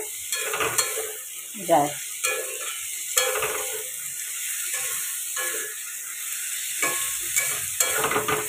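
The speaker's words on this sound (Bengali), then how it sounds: "পেঁয়াজটা একটু ভাজা ভাজা হোক" Onions with a little salt fry in a pan, giving a soft continuous sizzle punctuated by rhythmic spatula stirs and scrapes against the metal; a brief word is spoken.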